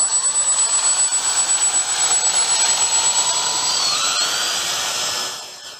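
A model BF 110 twin-engine airplane flies by on a calm morning with no wind. Its electric motors make a loud, continuous high whine that pulses a little, shifts in pitch as it passes, and then fades.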